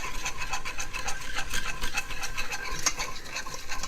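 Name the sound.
metal whisk stirring flour into butter in a pan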